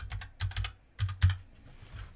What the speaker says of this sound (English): So just type control panel here.